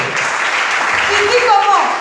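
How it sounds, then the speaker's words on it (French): A church audience applauding loudly, a dense continuous wash of clapping that holds steady, with a few voices rising through it. "Acclame très très fort."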